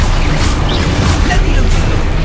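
A Confringo fire-blast spell cast in Hogwarts Legacy, heard as loud booming bursts roughly every half second over a dense, continuous wash of combat noise.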